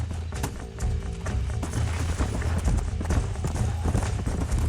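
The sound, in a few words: horses galloping in video game Red Dead Redemption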